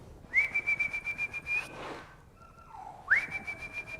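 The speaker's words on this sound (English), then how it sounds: "the puppies will always come when you whistle" A person whistles a rising call to puppies with quick repeated chirps, pauses, then whistles again; clear and close, with no talking.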